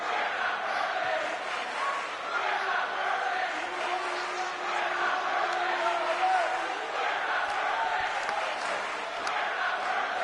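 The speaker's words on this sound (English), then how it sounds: "And what is the crowd chanting?" Crowd chanting in a WWE 2K18 wrestling arena, a steady dense roar of many voices with a rhythmic chant rising and holding throughout, fairly loud and continuous.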